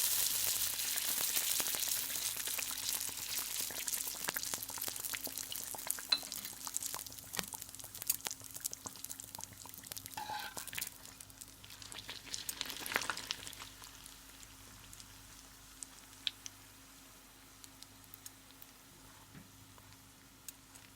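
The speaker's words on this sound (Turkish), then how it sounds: "Hamurlarımızı içerisine atıp arkalı önünü pişirelim." Rings of pişi dough fry in hot oil, a steady crackling sizzle that starts strong and gradually eases, with occasional sharper pops and crinkles and no talking.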